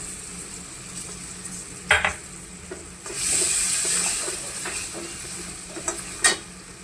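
Spices and tomato frying in a pan for a sprouted mung dish, a steady close sizzle with clattering spoon stirs and scrapes against the pan, a brief louder hiss in the middle, no speech.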